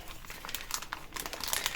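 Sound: plastic vacuum bag being handled and folded

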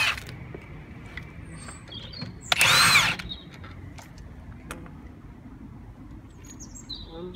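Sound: power tool loosening wheel screws

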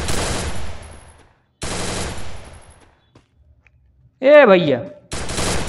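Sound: gunfire in the video game Free Fire Max

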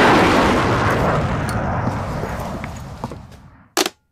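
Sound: explosion destroying the Imperial Senate

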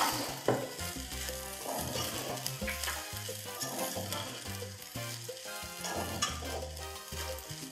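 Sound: chicken cubes stir-fried in a pan for Peruvian arroz chaufa

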